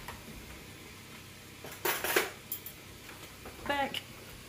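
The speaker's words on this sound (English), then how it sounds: "So let me grab a teaspoon." Metal kitchen utensils clink and rattle in a few short bursts as a teaspoon is picked out from among them, close and moderately loud against a quiet room.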